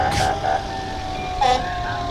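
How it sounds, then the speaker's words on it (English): A large sanitation truck rumbles past in a Christmas parade with steady engine drone and a couple of brief high tonal beeps, while a person talks over it. "Patriot sanitation truck"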